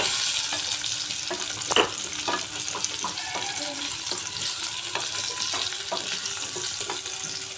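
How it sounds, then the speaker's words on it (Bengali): Potatoes frying in oil on the stove crackle in a constant, bright sizzle, broken by scraping and knocking as a spoon turns them over in the pan. "এদিকে অন্য একটা চুলায় আলু ফ্রাই বসিয়েছিলাম আলুগুলাকে আরেকবার নাড়িয়ে দিচ্ছি"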